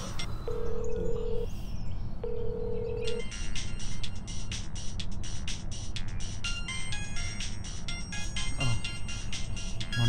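Mobile phone ringtone heard while a woman calls her partner in a Bengali short film, two short repeated tone bursts early on, then dense music and background noise fill the rest.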